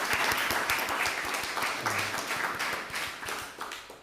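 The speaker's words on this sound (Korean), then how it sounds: "박수로 환영하겠습니다" A church congregation at a Sunday service in Darmstadt claps in welcome, a lively burst of applause that fills the room and tapers off after a few seconds.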